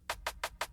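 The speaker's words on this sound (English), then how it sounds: "snare" A snare drum sample hit five times in quick even succession, each crack bright and snappy, dry and alone.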